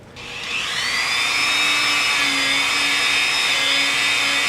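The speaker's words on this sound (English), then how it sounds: "Why don't we try the other wire brush? It's a little stiffer." A Dremel 3000 rotary tool spinning a stiff wire brush against rusted metal gives a steady, loud high-pitched whine that holds for the whole stretch after a brief start, with no talk.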